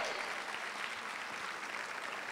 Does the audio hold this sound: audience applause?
yes